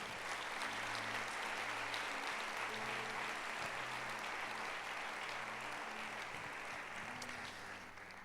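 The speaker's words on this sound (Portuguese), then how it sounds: "Se você entende isso, aplauda ao Senhor então." A church congregation claps during a Portuguese-language worship service, a broad, continuous wash of applause heard at a distance with a low background hum underneath, easing slightly toward the end.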